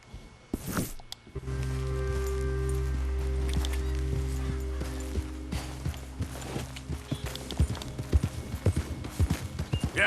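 Horse hooves clip-clop at a steady pace in the western video game Red Dead Redemption 2, rhythmic thuds over a low sustained in-game drone, with brief sharp noises near the start.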